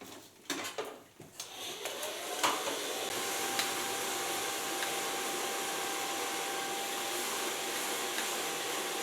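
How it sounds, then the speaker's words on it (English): A hair dryer blows hair styled with a medium round brush, starting with a few clicks and handling knocks, then a steady close whooshing drone that continues without talk. "gonna blow dry this with a medium brush,"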